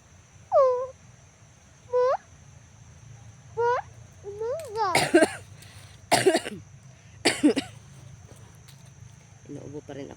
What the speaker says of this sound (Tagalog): Inuubo pa rin ako.